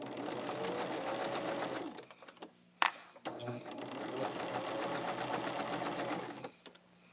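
A sewing machine back stitches along a quilt border: two steady, rapid whirring runs of stitching split by a short pause with a sharp click, fairly faint and without talk.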